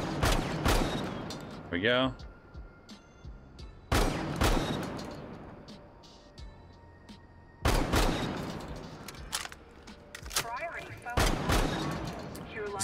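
Ela's shotgun in Rainbow Six Siege fires four loud, booming blasts spaced a few seconds apart, each with a long decaying tail, and a voice speaks briefly between shots.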